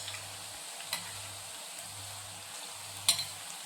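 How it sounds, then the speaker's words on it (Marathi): Shankarpali, spicy fried dough pieces, frying in oil over medium heat, giving a steady soft sizzle with a low periodic hum underneath, two brief clicks standing out, no voices. "अशा अगदी मध्यम आचेवर तळून घ्यायचं"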